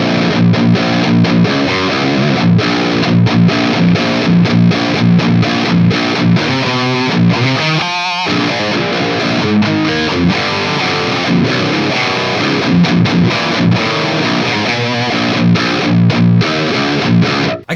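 Heavily distorted electric guitar through an Amp 1 amp modeler on its UK setting, playing a dense riff that stays loud and continuous throughout, with a brief choppy break midway.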